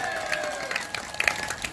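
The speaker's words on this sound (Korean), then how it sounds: "박수 치려면 확실하게 치세요." Applause from a gathering at a mountain-climbing club's founding hike event, a short burst of outdoor clapping with scattered louder claps and a faint tonal hum running beneath.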